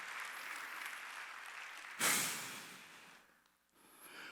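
Applause from a church congregation at a Sunday service, a brief swell of clapping that fades over a couple of seconds, heard over a hushed room tone with no talk.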